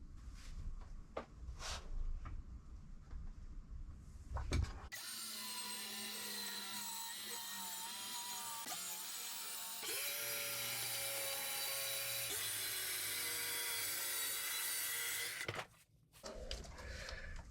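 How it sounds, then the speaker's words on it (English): A circular saw cuts through Sonopan soundproofing board, whining loud and steady for about ten seconds, its pitch shifting partway through. Quieter handling noises come before and after the cut. "It actually cuts really quickly with a circular saw"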